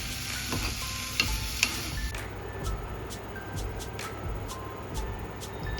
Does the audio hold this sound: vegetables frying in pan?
yes